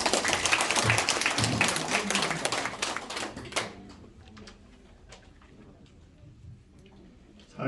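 An audience at a Korean senior citizens' association general meeting claps to welcome a speaker, dense applause for about three and a half seconds that then thins out and fades into a quiet room.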